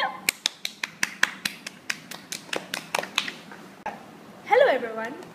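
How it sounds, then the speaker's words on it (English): A rapid series of about twenty sharp hand claps or taps in a quick, slightly uneven rhythm, close and fairly loud, followed by a short vocal exclamation. "One, two, three, clap!"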